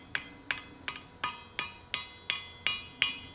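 A hammer rounds off a hand-forged iron chain link for a Sutton Hoo chain replica on the horn of a bickern. About ten evenly spaced, ringing metallic strikes repeat at a steady pace, fairly close and with no talk.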